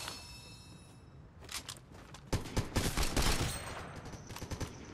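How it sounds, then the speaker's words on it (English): Gunfire in Fortnite aimed at the player: bursts of rapid shots break out after a quiet start, growing loud and dense in the middle, with more scattered bursts toward the end. "Somebody shot at me through here."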